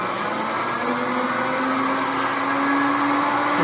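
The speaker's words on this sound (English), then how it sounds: "you got to turn the barbecue motor on" A barbecue rotisserie motor drives a rose engine lathe, giving off a steady, fairly loud whirring hum that holds evenly with no voices.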